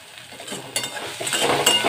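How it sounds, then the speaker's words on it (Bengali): Spices with turmeric and pepper stirred in a pan for a crispy masala corn fry, a short burst of scraping and soft sizzling that builds louder toward the end, with a faint clink of the utensil. "এটাকে একটু ভালো করে আমি নেড়ে দিলাম।"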